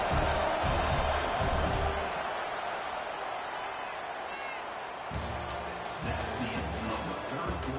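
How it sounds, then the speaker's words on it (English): A stadium crowd roars steadily at a college football game between Texas A&M and Auburn as the kicker lines up, a dense, continuous wash of noise with swelling bursts of louder cheering. "This crowd trying to do its part to get inside the kicker's head."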